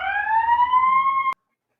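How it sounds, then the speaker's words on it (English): A loud, wailing fire truck siren rises in pitch for about a second before cutting off abruptly into silence. "That was a fire truck."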